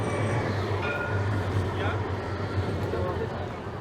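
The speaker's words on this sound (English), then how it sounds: "Oh, there's a newer style tram." Newer-style tram passing along a street in Amsterdam, with a low, steady rolling rumble beneath nearby talk and city ambience.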